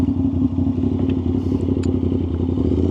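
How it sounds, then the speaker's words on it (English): An Aprilia RS660 motorcycle with a loud aftermarket exhaust rumbles steadily while being ridden, a close, constant throbbing drone with some clattering and faint mechanical ticks over it. "all they can hear is this ridiculous exhaust"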